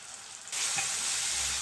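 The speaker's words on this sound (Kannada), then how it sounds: "ಫ್ರೈ ಮಾಡಿಕೊಂಡು ಮೆತ್ತಗಾಗುವವರೆಗೂ ಫ್ರೈ ಮಾಡ್ಕೋಬೇಕು" Tomato rice mixture frying in a pan, a steady close sizzle that jumps louder partway through and holds as a constant crackling hiss.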